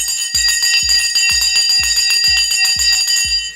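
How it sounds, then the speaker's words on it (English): A stock market opening bell rings in a rapid, steady series of about eight loud metallic clangs that sound close and alone. "The bell has now gone and we are off and running to the races."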